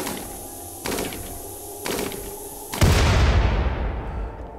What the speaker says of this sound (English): let's watch the explosion.